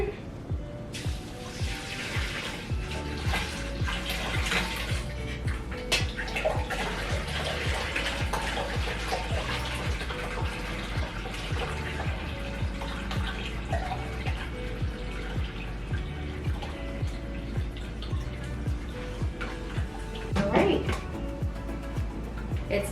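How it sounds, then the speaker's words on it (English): Jamaican sorrel drink is poured through a strainer into a pot, a continuous splashing and trickling of liquid with occasional drips, under frequent talk close by. "I will be dumping out the sorrel into this pot here, and I have a strainer to strain the particles from the sorrel"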